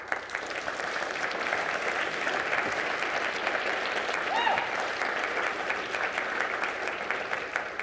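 A large conference audience at a policy keynote applauds in sustained, dense clapping that stays loud and even for the full stretch, with faint voices mixed into the crowd.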